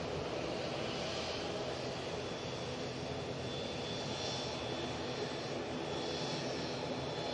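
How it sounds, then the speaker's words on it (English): A Cessna Citation business jet arriving at Manchester Airport sends out a faint, distant, steady jet rumble with a soft hiss and gentle pulsing swells, no voices over it. "We do have like a Bizjet coming in."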